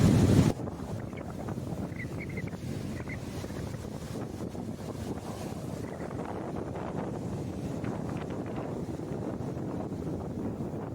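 Strong wind buffets the microphone outdoors at a cold campsite, a steady broadband roar that continues unbroken for the whole stretch after a brief louder gust at the start.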